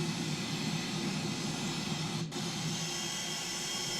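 A jet airliner engine in a flight simulator game roars steadily after starting, at a moderate distance, a constant broadband whoosh with a low hum underneath, one brief dip in the middle.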